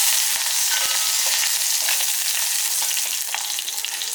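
Mustard seeds, a sprig of curry leaves and one dried red chilli crackle and pop in hot oil during a tempering for rasam, a steady close sizzle with sharp little bursts throughout.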